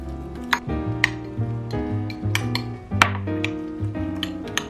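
Food being mixed with sesame oil in a bowl, a run of bright close clinks and taps of utensil against dish in an uneven rhythm, moderately loud with no talking.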